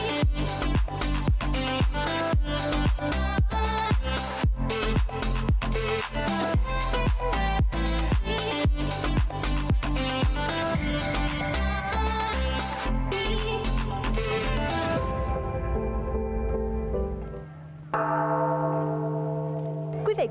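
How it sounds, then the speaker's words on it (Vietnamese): Temple bells at a pagoda on the stone steps leading up to Fansipan peak near Sapa ring out in dense, rapid, overlapping strikes, loud and resonant, before settling into a lower sustained ring. "Đó chính là tiếng chuông chùa khiến cho đoạn đường di chuyển lên đỉnh Fansipan càng trở nên hùng vĩ hơn"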